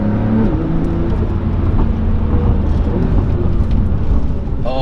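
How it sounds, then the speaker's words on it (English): Porsche 911S engine with 420 horsepower, loud and close, a continuous rough motor roar with a brief rising blip near the end, under faint talk. "Oh, the downshifts though."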